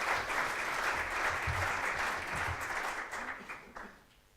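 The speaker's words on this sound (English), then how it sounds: "Please put your hands together and give a round of applause for UNESCO and Merck" Audience applause at a UNESCO and Merck Africa research summit, a steady dense clapping that holds for about four seconds, then thins and fades toward the end.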